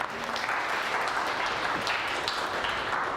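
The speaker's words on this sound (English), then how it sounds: "Can you give her a round of applause then?" A seminar audience gives a steady round of applause, a dense wash of many hands clapping at once, sustained and moderately loud throughout with no speech over it.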